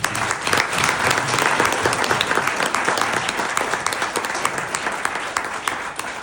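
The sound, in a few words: applause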